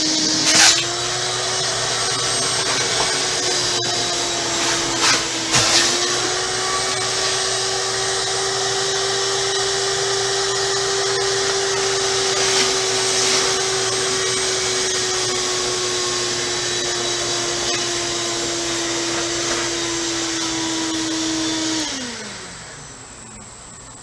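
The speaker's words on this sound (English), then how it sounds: "You vacuum the water out of the seats and out of the bottom till you get it all out" A loud, steady vacuum motor roars continuously, sucking water out of a hot tub's seats and bottom, with a few brief clunks and gurgles, then winds down and cuts off near the end.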